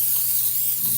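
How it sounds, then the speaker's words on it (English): Olive oil sprays from a can onto a small cooking dish in a home kitchen, one steady close hiss lasting about a second with no voices. "Spray this. And I just used olive oil."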